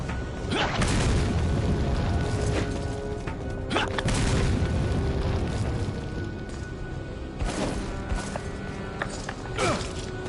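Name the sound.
grenade explosion in Resident Evil 4 video game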